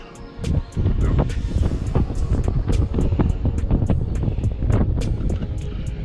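Steady wind gusting and buffeting across an open microphone, with faint water lapping underneath and no voices.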